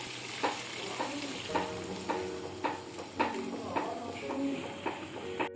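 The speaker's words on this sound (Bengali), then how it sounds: "আলু আর চর্বিটাকে এখানে আমি মশলা দিয়ে খুব ভালোভাবে কষিয়ে নেব।" Potatoes and fat fry with spices in a pan, a soft steady sizzle broken by rhythmic scraping stirs about every half second, with quiet background sounds.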